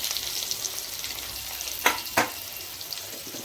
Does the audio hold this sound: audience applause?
no